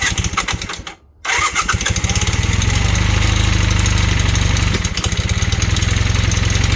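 A Honda Hondamatic 400 motorcycle with sticky valves, revived after more than twenty years, cranks and catches, then settles into a loud, close, steady idle with a rapid throbbing pulse and a slight dip midway.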